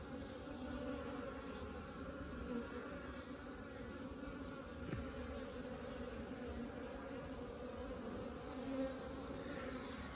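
Honeybees buzzing steadily at a hive in winter, a close, continuous drone with a dense insect hum that stays even for the whole stretch.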